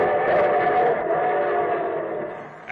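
Train sound effect opening a radio railroad show, a steady rumbling rolling train with dense tonal, whistle-like overtones sustained throughout at fairly loud level, with no talk.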